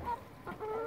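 A farm chicken gives a brief, fairly faint series of clucks and honking calls, heard alone.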